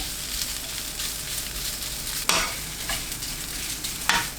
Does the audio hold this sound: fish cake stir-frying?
yes